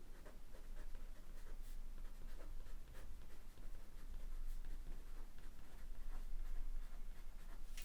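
A pen or pencil writes the name of a watercolor paint on paper in soft, quiet scratchy strokes, close and continuous with faint ticks and no talking.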